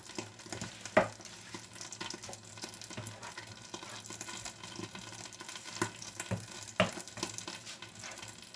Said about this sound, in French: Mon riz est en train de cuire.